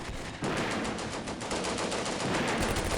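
Sustained automatic gunfire roars in the wargame Combat Mission: Beyond Overlord as troops advance and shoot at targets. Bursts are loud and rapid and fire almost without pause throughout.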